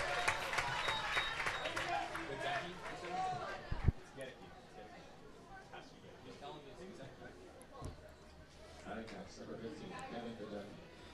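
Spectators at a varsity baseball game applaud and cheer after an out, a broad wash of clapping and crowd noise that fades under a play-by-play announcer talking.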